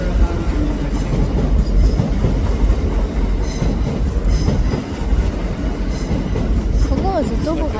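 A double-headed train rolls through Doncaster station, a loud, steady rumble of wheels with clickety-clack and a brief squeal near the end, filling the whole stretch up close.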